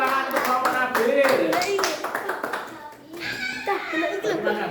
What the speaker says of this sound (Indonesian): Beri tepuk tangan untuk kelompok Nabil.